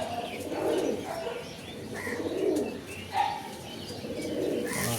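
Domestic pigeons, including a black pair, coo in low repeated phrases close by, with a few chirps and a brief flutter of wings mixed in against a steady background.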